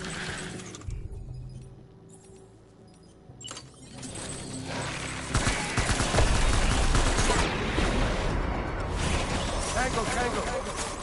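Gunfire in the video game Death Stranding, a quiet opening that swells into dense, sustained bursts of shots and clatter, loud and continuous through the second half, with voices heard.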